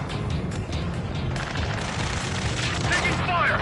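Rattling bursts of gunfire in Ace Combat, dense and continuous with booming hits, while radio voices talk over the shooting.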